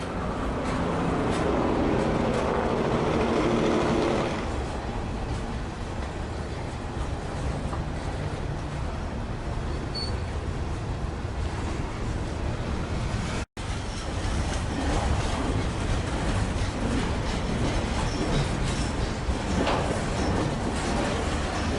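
A long CSX freight train rumbles past close by on the Trenton Subdivision, steady rolling noise with rhythmic wheel clatter throughout, briefly cutting out for an instant midway.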